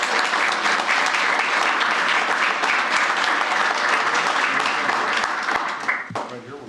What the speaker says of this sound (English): Let's give them a great applause.